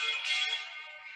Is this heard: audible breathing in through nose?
no